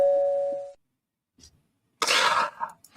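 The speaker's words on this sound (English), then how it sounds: "then the doorbell would ring" A doorbell gives a single clear electronic chime at the start, then a short pause, a faint noise and a burst of coughing.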